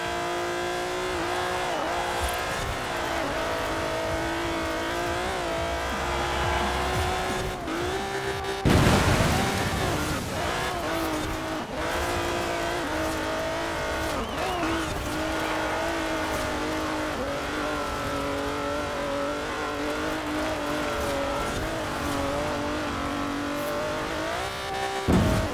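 A two-ton limousine racing in Forza Horizon 4 in autumn, its engine droning steadily and loudly throughout with revving shifts, a sharp jolt or impact near the middle, and game music layered under the engine.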